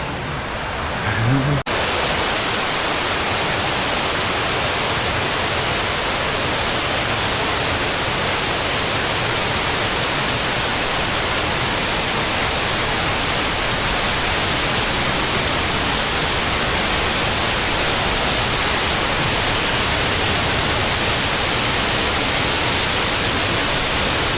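A waterfall on a forest hike roars as loud, steady, broadband rushing water, close and continuous throughout.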